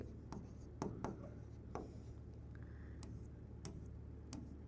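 Faint chalk-on-board writing in a classroom, scattered taps and scratchy strokes at an irregular rhythm over a steady low hum, with soft talking in the background.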